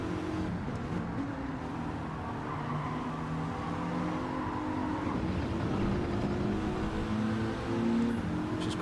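A Dodge Viper race car's engine in Gran Turismo 7 hums continuously and quietly, its pitch rising and falling through gear changes, braking and cornering during a race.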